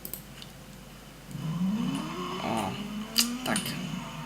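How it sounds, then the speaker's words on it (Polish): A car engine in the racing game Need for Speed World rises and falls in pitch through a couple of brief revs, moderately loud over a faint background, with clicks near the end. "Byście mogli usłyszeć dźwięk samochodu chociaż."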